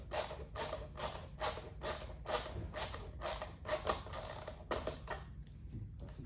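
Socket wrench ratcheting a screw snug on a 2018+ BMW K1600B motorcycle during an audio kit install, a steady run of about a dozen crisp clicks that slows and trails off near the end.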